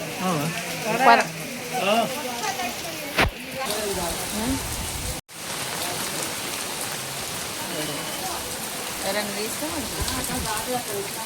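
Rain falls steadily while someone walks outdoors during a rainy-day function, with a constant pattering hiss, people talking over it and a brief drop in sound midway.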